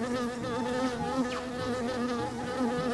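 Bees buzz continuously beside garden hives, a dense, close, steady drone of many wings with shifting pitch and no voices.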